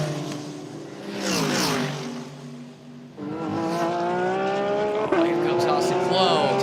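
GT race cars, including a Ferrari, roar through the Circuit of the Americas during a GT World Challenge America race, with engines rising and shifting pitch as they pass near and loud under continuous commentary.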